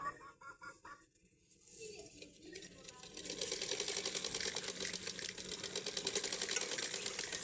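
A sewing machine stitches clothes at home, its steady rapid mechanical whirr building after a quieter start and running continuously to the end, with a faint voice early on.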